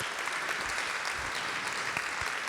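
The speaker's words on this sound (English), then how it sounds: "So you can start clapping now." A crowd at La Bellone claps steadily for a Culture Moves Europe event, dense, continuous applause of many hands at even strength from start to finish, no voices on top.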